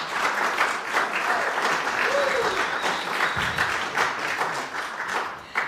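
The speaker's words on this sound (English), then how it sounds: "Let's give them a round of applause." A large audience at a live radio show on the Red Barn stage claps for a band steadily for several seconds, a dense, continuous wash of applause from start to finish.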